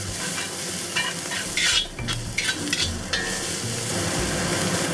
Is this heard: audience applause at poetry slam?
no